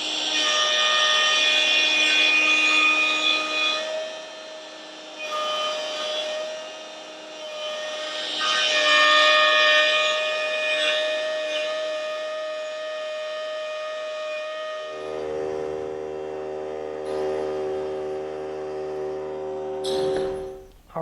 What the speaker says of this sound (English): Alright, we routed our groove and it looks great.